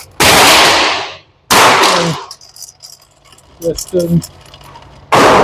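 Sharp, loud .22LR pistol shots from a Ruger Mark IV 22/45 Lite at a range, several single cracks spaced apart with decaying tails, and someone briefly talks between them.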